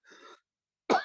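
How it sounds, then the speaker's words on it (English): A person coughs during a Zoom call: a soft breathy throat sound, a pause, then one sharp, loud close cough. No talking. "I'll keep coughing."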